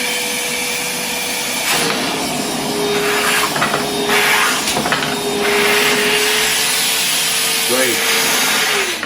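A Milwaukee M12 1.6-gallon wet/dry vac runs in high mode, a loud, steady motor whine with brief changes as it sucks up debris.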